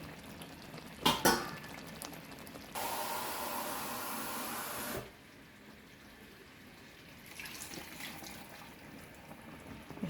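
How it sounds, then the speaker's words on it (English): Water poured into a cooking pot while preparing a Jamaican breakfast, a steady rushing pour lasting a couple of seconds after a few brief clatters, followed by quieter kitchen ambience. "I'm going to add some more water to cook it down"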